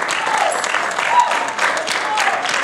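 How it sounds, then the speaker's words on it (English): A church congregation claps in praise, a lively round of clapping with shouts and voices mixed in throughout. "Can we give God a big old clap of praise for you?"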